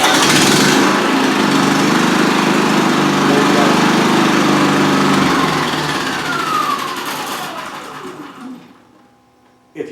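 A Firman inverter generator running loud and close indoors in a small room, a steady high-pitched engine whine that winds down to a stop near the end, with a brief clunk at the finish.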